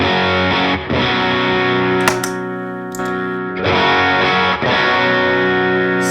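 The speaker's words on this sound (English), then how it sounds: "This is the Timmy by itself" Electric guitar through a Timmy overdrive pedal, sustained distorted chords ringing with a few quick changes and brief gaps, loud and close with no voices.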